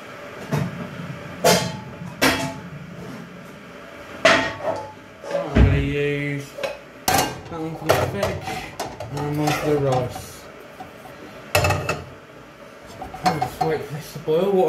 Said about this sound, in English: Oh, I need to get a frying pan.